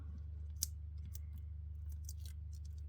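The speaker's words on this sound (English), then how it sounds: "cut a couple of pieces of the dimensionals off" Small scissors snip through foam adhesive dimensionals at a papercraft table, with a few quick, crisp cuts spaced across a steady low hum, close and fairly quiet.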